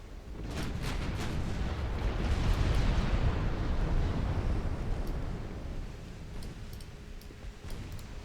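A rocket explodes in a Great Game campaign set in Scandinavia, a broad rumbling blast that swells and slowly fades over several seconds, with faint clicks at the tail.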